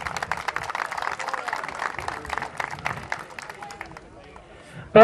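Sustained applause from a seated audience at a county junior football league awards ceremony, many hands clapping briskly and evenly before tapering off, ending with a sharp close thump.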